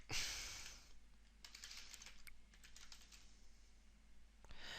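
Quiet clicking of a computer keyboard being typed on, a few short keystroke bursts spaced through the clip over a faint low hum, with no talking.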